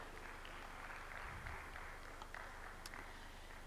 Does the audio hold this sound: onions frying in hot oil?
no